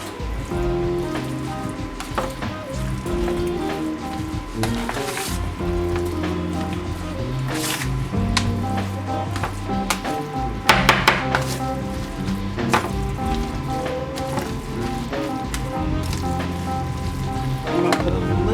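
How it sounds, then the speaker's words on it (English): Shredded cheese, three kinds, is worked by hand into a raw meatloaf mixture, giving wet, squishing, slapping mixing noises, repeated and irregular, close up and fairly loud throughout. "Now I'm going to mix in the cheese."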